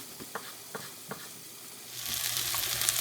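Onions and carrots fry in a pan until softened and starting to brown. A few light stirring taps come first, then a loud, bright sizzle swells up and holds close.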